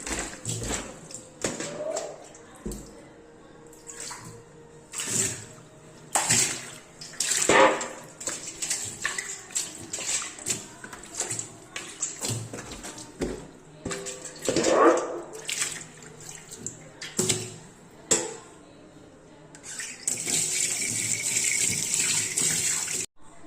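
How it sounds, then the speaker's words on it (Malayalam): Tap water running into a kitchen sink during cleaning, uneven bursts of splashing and rinsing with pauses, close by, ending in a steady strong gush, no clear talking. "ഇനി നമുക്ക് വെള്ളം ഒഴിച്ചത് കഴുകാം."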